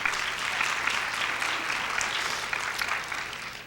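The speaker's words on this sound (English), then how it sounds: "I hope you're clapping for Jesus" Steady applause from an audience at a talk about a 57-year marriage, filling the whole stretch at even strength with dense overlapping claps and no voices.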